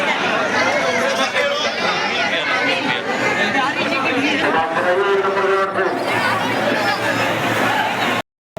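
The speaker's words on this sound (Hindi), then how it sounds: "यहाँ बहुत की भीड़ है" Dense crowd chatter outside the Banke Bihari temple in Vrindavan, many overlapping voices babbling loudly and continuously close by, with brief shouts rising above the hubbub before an abrupt cut near the end.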